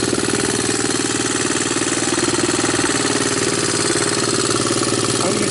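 A Honda TRX200SX ATV engine idles close up, a loud, steady, rapid chugging rhythm that holds evenly throughout with no voices.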